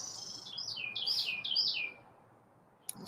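A pet bird named Chirpy gives a rapid run of bright, close chirps and tweets, then falls quiet except for one brief sharp chirp near the end.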